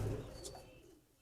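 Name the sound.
Ferozpuri pigeon cooing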